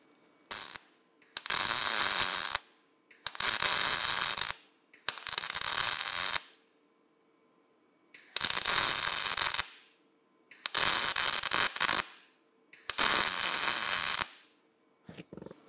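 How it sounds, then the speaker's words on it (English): Arc welding a bracket onto a hydraulic press in a workshop, done in stop-and-start bursts: six or seven loud, close, sustained crackling and sizzling runs of one to two seconds each, separated by short quiet pauses. "Probably gonna have to kind of weld and stop and weld and stop."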